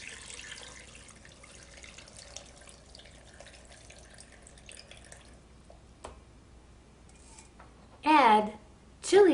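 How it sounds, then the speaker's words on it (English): Chili soaking liquid pours into a blender in two short, loud splashing bursts near the end, after a quiet stretch of faint kitchen noise. "Pour about 2 cups of the soaking liquid into the blender."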